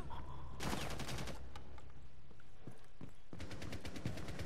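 Rapid automatic gunfire in the tactical shooter game Rainbow Six, with two loud bursts of repeated shots separated by a quieter stretch of scattered distant reports.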